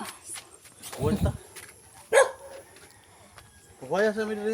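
Several dogs bark in short bursts on a walk near a dam, a few loud close barks and yips mixed with people talking nearby.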